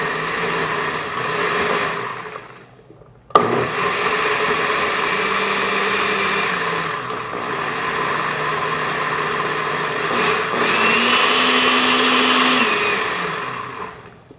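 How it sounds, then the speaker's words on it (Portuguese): A kitchen blender mixes smoothie ingredients with flaxseed, a loud steady whir that cuts off briefly, then restarts and runs continuously with a shifting pitch. "Mistura todos os ingredientes no liquidificador."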